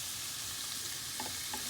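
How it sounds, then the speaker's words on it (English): Fish fry in a pan with a faint, steady sizzle and a few soft stirring clicks near the end, without any voice. "So as you can hear, they're sizzling."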